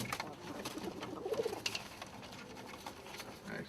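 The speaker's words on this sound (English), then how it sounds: "Thai laughers and Arabian trumpeters." Young Thai laugher and Arabian trumpeter pigeons cooing in a loft, several overlapping low calls over a busy, rustling background with a few brief sharper sounds.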